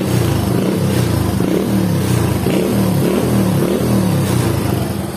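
A Honda Win 100 motorcycle fitted with a new carburetor idles close by, a loud, continuous, even engine putter with a steady pulsing rhythm throughout.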